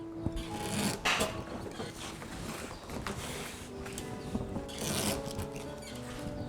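Palm wood being cut by hand, a steady rasping, scraping saw-like stroke sound close up with irregular bursts and knocks, no talking.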